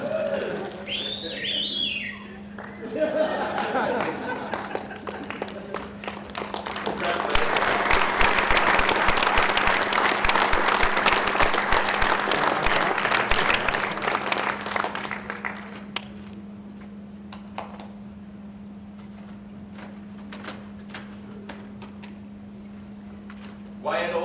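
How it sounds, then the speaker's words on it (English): Audience applause at an annual awards ceremony swells into a long, dense burst of clapping and whistles, then thins to scattered claps under a steady low hum, with talk heard at the start. "We can clap again when he gets here."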